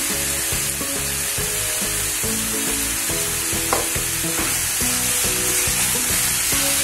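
Onion frying with salt for a red amaranth stir-fry, a steady loud sizzle with rhythmic spatula scrapes against the pan, close up and without talk.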